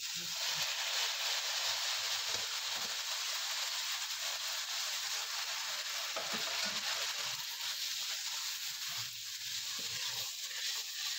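Jaggery syrup is poured into roasted semolina for halwa, and the pan gives off a steady, broadband sizzling hiss that lasts throughout, with faint low clatter of cooking beneath and no talking.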